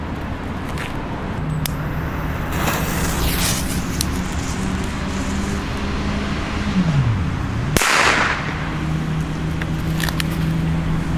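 A single sharp crack of a Vulcan Astronaut firecracker bursts out about two-thirds through, standing above steady background rumble and a passing engine-like drone.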